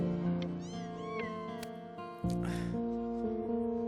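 A stray cat meows in Before Your Eyes, several high, rising and falling mews in close succession over a steady tonal music bed, near and fairly clear, with no speech.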